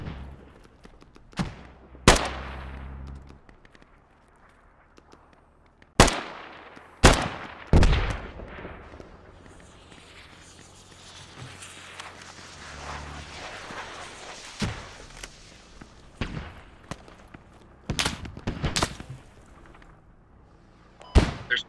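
Mortar rounds explode in the military shooter game Squad, a series of sharp, heavy booms scattered irregularly, some near and loud, others duller and more distant, with quieter rumbling and faint gunfire between.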